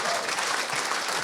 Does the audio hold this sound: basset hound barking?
no